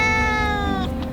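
A ragdoll kitten lets out one loud, drawn-out meow that slowly falls in pitch and fades at the end, close and alone.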